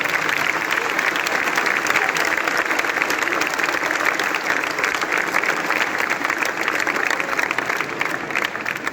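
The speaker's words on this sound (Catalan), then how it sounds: "Un aplaudiment per ells." Steady, loud applause from a large crowd at a town festival in Mahón, continuous dense clapping that fills the whole stretch without pause.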